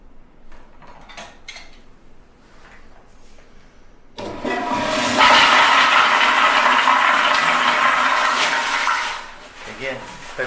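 A household toilet flushes close by, a sudden loud rush of water starting partway through that runs steadily for several seconds and then tails off, after a quieter stretch of faint movement and low talk.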